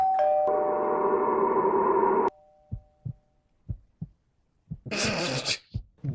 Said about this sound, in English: Somebody just ring your doorbell.